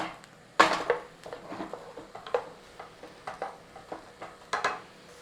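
Onions, garlic and peppers frying in an oiled pan, heard as light sizzling under repeated clinks and scrapes of a utensil stirring against the pan, irregular and close.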